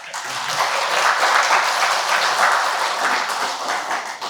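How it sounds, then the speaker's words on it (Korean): Dense, steady applause fills the hall at the first official event of a joint creditors' group, a large crowd clapping together evenly and loudly for several seconds. "박수 한번."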